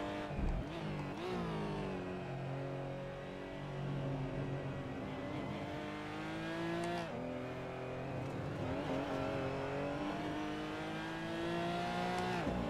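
A Porsche GT4 Clubsport engine in a sim racing game at the Nurburgring, loud and continuous, rising and falling in pitch as the throttle is rolled on and the car winds through gear changes.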